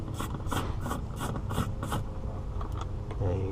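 A Phillips screwdriver turning out a screw on the rear passenger door panel of a 2017 Infiniti QX60, with six rhythmic ratcheting clicks up close followed by softer scraping and rubbing.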